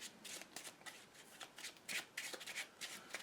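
Marvel Legendary game cards are shuffled in quick riffling bursts, a crisp, close flutter of cards repeating several times at a low, quiet level with no talking.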